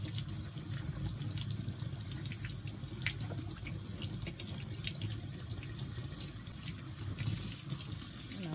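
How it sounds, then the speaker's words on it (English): Vegetables get rinsed under a running kitchen tap into the sink, a steady close hiss of flowing water with small splashes and drips as they are handled. "take this over to the sink and wash these up"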